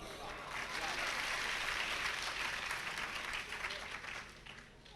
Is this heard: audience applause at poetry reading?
yes